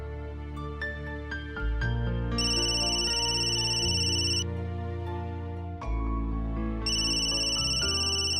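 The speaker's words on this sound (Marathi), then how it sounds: "फोन वाजतोय तुझा" A musical ringtone plays steadily and loudly for several seconds, a bright melodic tone pattern with bass notes underneath, repeating its phrase without any talk over it.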